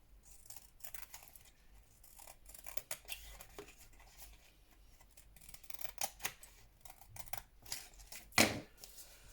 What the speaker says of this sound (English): I'm trying to cut a straight line onto a cardboard decollage line